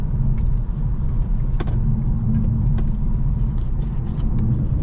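Audi A4 driving after sway bar link and bushing repair, a steady low road rumble from inside the car with a few faint light knocks as it rolls over a bump, no rattles and no talk.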